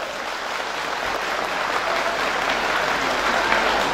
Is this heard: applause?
yes